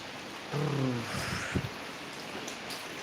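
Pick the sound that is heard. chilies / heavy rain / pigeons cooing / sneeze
heavy rain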